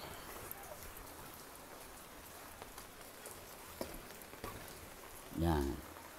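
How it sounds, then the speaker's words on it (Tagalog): Rain falls steadily, a soft constant patter heard close by, with a brief low thump near the end. "Umuulan eh. Nakapayong na ako"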